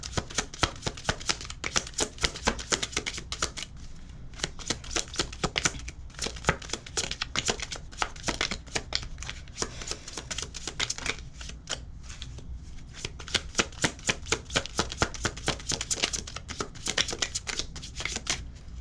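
Slippery tarot cards are shuffled again and again in rapid, close riffling bursts that run almost without pause.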